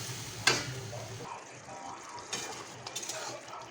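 Mushrooms frying in a pan with chicken masala spice and a splash of water, a soft sizzle under stirring clinks and a sharp utensil knock against the pan near the start.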